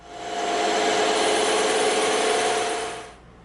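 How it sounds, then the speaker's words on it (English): Bandsaw slicing through a 12mm sheet of EVA foam, a single smooth humming cut that swells in, holds steady for a few seconds, then drops off. "Now we're going to come in and we're going to cut this 12mm piece also on the bandsaw."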